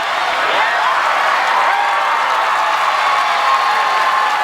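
A large arena crowd cheers and roars continuously at an American Ninja Warrior finals course in Philadelphia, a dense, steady wash of distant voices and applause with no single voice standing out.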